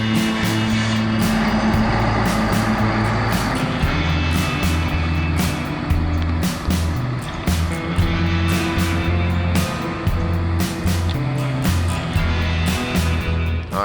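A tow truck loads a Ford Torino onto its bed, with a steady loud diesel engine drone, low rumble and intermittent clanks and mechanical whine throughout, no talking.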